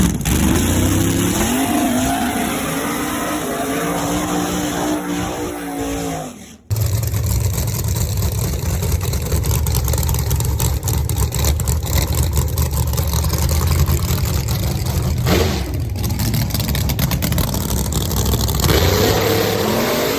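A drag race car makes a run down New England Dragway in Epping, New Hampshire, with a loud, raw engine roar that cuts out abruptly and then returns as a sustained, heavy blare at full power.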